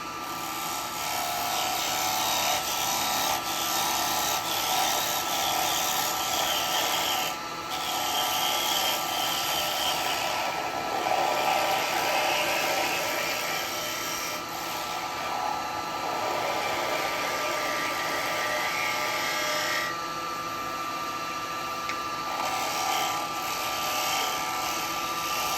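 Wood lathe turning a wet eucalyptus bowl with a carbide tool: a continuous loud whirring drone with steady cutting hiss that swells and eases in waves as the tool works the spinning wood.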